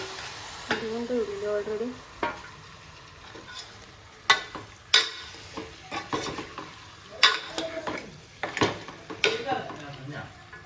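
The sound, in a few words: goat head frying and being stirred in a pan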